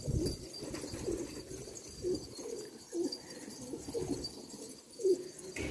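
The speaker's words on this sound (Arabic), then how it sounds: "هاي اول تصوير للحمام" Pigeons cooing nearby in repeated soft, low, rounded calls spaced about a second apart, with light rustling between them and no talking.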